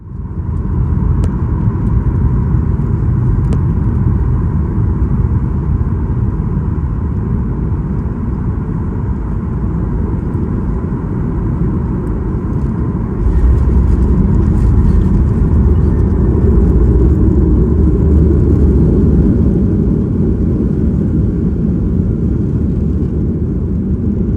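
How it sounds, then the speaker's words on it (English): A Southwest airliner lands on runway 17 left at Will Rogers World Airport, heard from inside the cabin as a loud, continuous roaring rumble that swells louder partway through. "let's go ahead and land on runway 17 left here at the Will Rogers World Airport"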